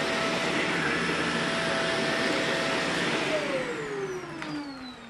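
A Shark NV650W or Hoover Elite upright vacuum cleaner runs steadily with a loud, continuous motor whine and airflow, its pitch sliding lower toward the end as the load changes.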